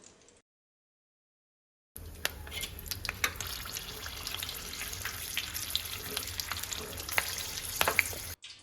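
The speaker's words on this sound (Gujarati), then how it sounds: "સાથે મરચાં પણ તળી લેશું" Green chillies frying in hot oil, made alongside fenugreek-leaf gathiya, give a steady close sizzle with crackles and pops, running alone after a brief quiet start.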